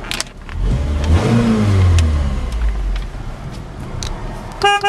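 A used car with 119,000 miles and a five-speed manual transmission cranks and catches, its engine revving up close before settling into a steady, even run, with a short beeping near the end.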